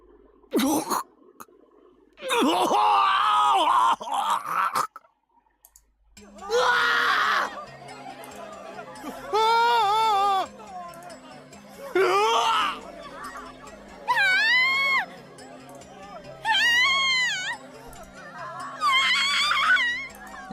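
Crowds of students scream and groan in a school gym in the Chaos;Child visual novel. Loud, echoing wails come in repeated bursts of a second or two, separated by short quieter gaps, with a low ambient tone underneath.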